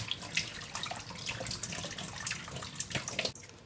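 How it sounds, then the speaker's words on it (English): A yam is scrubbed with a sponge under running tap water, a continuous splashing stream with rubbing and sloshing as it is washed in a sink, which stops abruptly near the end. "I'm washing it with my sponge"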